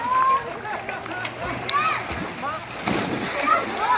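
A dog swims in summer water, its paddling throwing up a steady run of close splashes and splatters while a woman calls encouragement over it.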